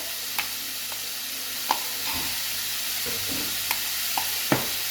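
Meat browning in a pan for hachis parmentier gives a soft, continuous sizzle broken by a few sharp utensil taps and stirring scrapes, close up with no voices.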